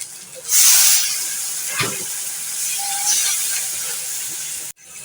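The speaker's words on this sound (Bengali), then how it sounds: "পেঁয়াজ রসুনটা ভাজা ভাজা হয়ে গেছে এখন আমি অল্প করে পানি দিয়ে দিচ্ছি" Water poured into a hot pan of fried onion and garlic bursts into a loud steaming hiss that holds steady for several seconds before cutting off abruptly near the end.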